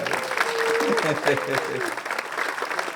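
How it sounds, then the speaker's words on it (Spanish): An audience at a talk on music and society applauds a symphony bassist, a dense wash of clapping throughout under a speaking voice that briefly sounds over it. "Un aplauso para ella"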